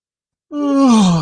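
A man gives one long, loud yawn that rises in voiced pitch and then slowly falls, starting abruptly after half a second of silence.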